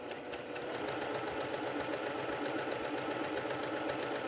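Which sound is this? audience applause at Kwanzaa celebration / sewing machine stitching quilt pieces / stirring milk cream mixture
sewing machine stitching quilt pieces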